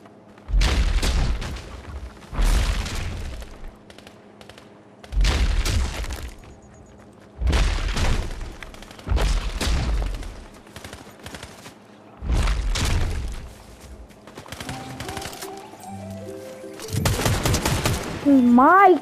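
Video game gunfire shoots at a bot in loud bursts of rapid shots, about every two seconds, separated by short quiet gaps, and ends with chirpy electronic game tones.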